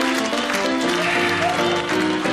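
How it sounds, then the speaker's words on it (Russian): Studio audience applause at a Russian comedy duo's stand-up show, a dense, steady wash of clapping that fills the whole stretch at close, loud level. "Аплодисменты."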